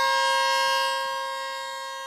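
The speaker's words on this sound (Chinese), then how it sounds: "伴随着鸣笛声，一列满载着贵州轮胎的列车从贵阳国际陆港出发" A freight train loaded with Guizhou tires sounds its horn as it departs Guiyang International Land Port: one long, loud, steady tonal blast that holds and then slowly fades.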